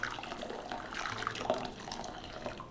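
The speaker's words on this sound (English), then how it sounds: "And then we have 2 cups of boiling water." Two cups of boiling water poured into a bowl of raspberry jello powder in a home kitchen, a steady soft liquid splash and trickle for a few seconds with no talk.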